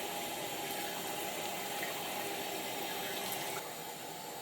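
Warm tap water runs steadily from a faucet for rinsing a tie-dye project, a close, continuous hiss and splash with no voices, easing slightly near the end.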